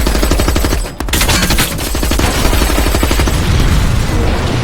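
Rapid automatic gunfire from a shootout in The Berlin File, a loud continuous stream of dense cracking bursts with a brief pause near the start, heavy and close throughout.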